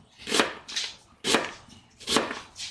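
A knife chopping through onions on a cutting board, about five crisp separate cuts in an uneven rhythm, close and clear with no talking.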